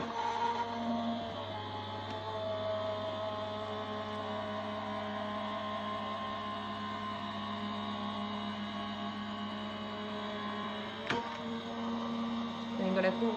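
A Gemini die-cutting machine runs steadily, feeding a card through with a cutting plate, die and shim, giving a continuous mechanical motor hum with a faint click near the end, close and moderately loud.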